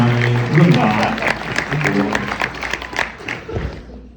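An audience applauds at an Ottawa University Athletic Hall of Fame induction ceremony. The clapping is dense and sustained from a crowd in a hall, then thins and fades out near the end.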